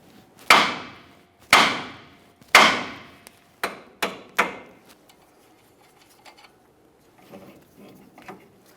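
Hammer strikes near the steering knuckle of a 1999-2006 Chevrolet Silverado 1500 to break the tie rod free: three hard, ringing metal blows, then three quicker lighter taps, followed by faint clinks and handling noises.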